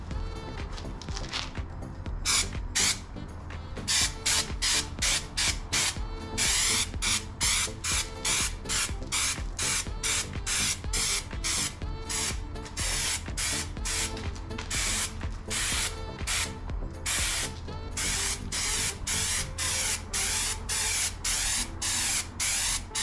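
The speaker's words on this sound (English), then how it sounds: "now we're gonna put the grapple coating on." Grapple coating is sprayed onto a camper trailer tongue box in a dense, loud hiss, broken into rapid repeated bursts as the trigger pulses, continuing steadily with no talk.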